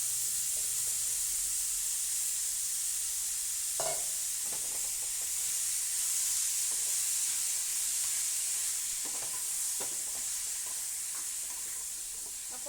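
Beetroot sizzling and frying in a pan on a gas stove, a steady loud hiss with occasional scrapes and clatters of stirring.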